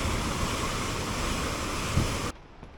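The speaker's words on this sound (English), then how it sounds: "We're just making a quick stop on the way back at this mirador overlooking these rapids." Rushing rapids of the Petrohue River in southern Chile, seen from a roadside lookout, make a loud, steady broadband roar with no speech that cuts off abruptly near the end.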